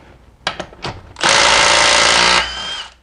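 A Milwaukee M18 Fuel 3/8" compact impact wrench fires up after a few clicks, hammering loudly and continuously for about a second and a half before winding down.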